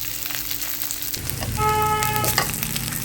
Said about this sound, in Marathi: एकदम थोड्या वेळ परतू देते